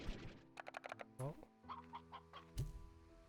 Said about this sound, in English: A new different kind of hen. There are different kinds of chicken.